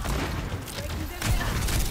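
An in-game grenade goes off in a hectic team shooter round, giving a sharp blast burst with scattered gunfire and heavy combat noise while players talk over it.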